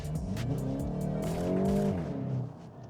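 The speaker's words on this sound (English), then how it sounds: "Bit of spinning there, but that's fine." A 2026 VW Golf GTI 8.5, front-wheel drive, accelerating hard on the autobahn with a brief wheel spin, its engine note rising loud and close for about two seconds before easing off.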